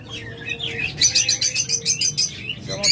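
Pet lovebirds, budgerigars and cockatiels chirp loudly up close, a rapid rhythmic run of bright tweets overlapping with softer calls in the background.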